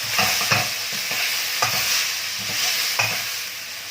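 Squid tipped into a hot pan for Thai suki, bringing steady frying sizzle with several clanking stirs and scrapes of utensil against the pan, close and fairly loud with no talk.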